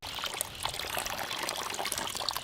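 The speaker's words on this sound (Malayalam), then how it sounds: "നമ്മൾ കൊക്കക്കോള ഒഴിച്ച് കാണിക്കാം." Coca-Cola poured out in a steady stream, a continuous liquid trickling and splashing for a couple of seconds at moderate level with no talk.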